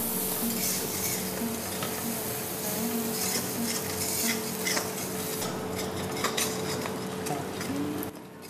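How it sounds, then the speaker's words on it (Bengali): Garlic paste fries in a pan of prawn malaikari base while a spatula stirs it, a steady loud sizzle with repeated scraping and occasional metal clinks, no talking. "এবারে এর মধ্যে দেওয়া হবে রসুন বাটা, 1 টেবিল চামচ রসুন বাটা এর মধ্যে দেওয়া হলো,"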